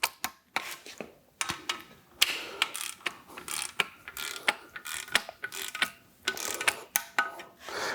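Torque wrench ratcheting bolts on a big-block Chevy alternator bracket, a run of short metallic clicks and ratchet bursts in irregular clusters, close and fairly quiet with pauses between strokes.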